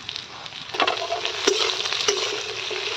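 Potatoes and peas fry in a pan with a steady, close sizzle, broken by a few sharp scrapes and clinks of stirring; no one speaks.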